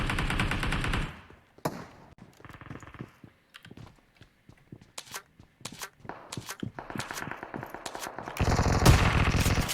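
A pump-action shotgun fired in an online shooter game, with sharp gunshots in uneven bursts among clicks and footsteps, and heavier sustained fire at the start and end.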